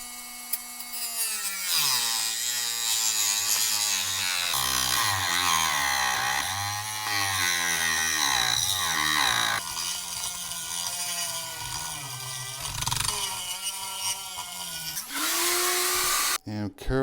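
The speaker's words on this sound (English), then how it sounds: "So we're gonna have to grind this down." A rotary grinding tool cuts down a servo horn on a Traxxas X-Maxx 8S RC truck, a loud, continuous whining grind that rises and falls in pitch as pressure changes, running steadily for most of the clip with no talk.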